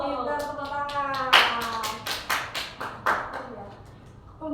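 Schoolchildren in a classroom give a short burst of hand clapping, several rhythmic claps following a teacher's voice, close and fairly loud.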